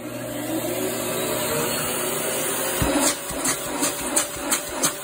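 A Black and Decker bagless canister vacuum cleaner with a soft start motor runs steadily with a constant high whine and airflow roar, joined by a few knocks and clicks toward the end.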